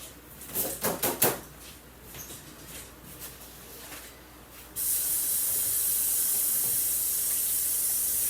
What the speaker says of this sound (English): And I need to rinse my hand.